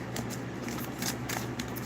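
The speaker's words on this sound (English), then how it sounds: "I don't even know why I'm shuffling." Tarot cards being shuffled in quick, soft riffling bursts, close and fairly quiet, with no voice over them.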